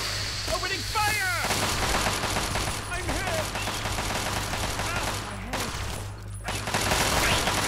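Gunfire in Fallout 3: dense rapid bursts that blur into a continuous roar, loud and close, joined by short whooping synthetic tones and a brief dropout before the shooting resumes.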